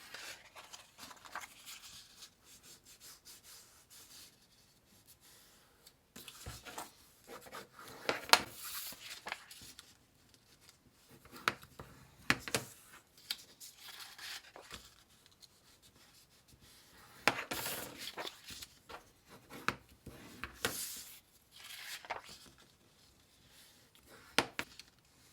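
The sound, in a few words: creasing paper along pre-scored folds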